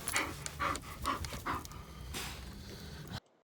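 A pet dog named Stella pants in quick, steady breaths out in the hot, windy Arizona desert, close by with no talking, before the sound cuts off near the end.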